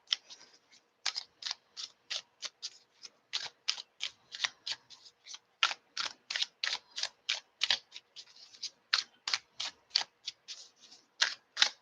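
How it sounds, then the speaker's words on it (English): Tarot cards being shuffled by hand, a long run of crisp, rapid riffles and snaps in a steady rhythm, close and fairly quiet, with no talk over them. "not when I'm shuffling cards."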